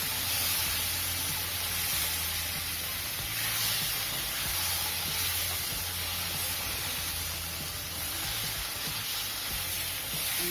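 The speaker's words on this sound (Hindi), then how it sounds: "मसाला अच्छी तरह भून चुका है। अब इसमें अंडे डालिए" Boiled eggs sizzling in frying curry masala on a low gas flame for a restaurant-style egg curry, a steady, dense hiss that stays loud and unbroken throughout, close and alone.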